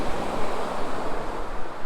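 Tide waves wash in at a sea fishing spot on the shore at Kilnsea, a steady, loud roar of surf mixed with gusty wind buffeting the microphone, with no voices.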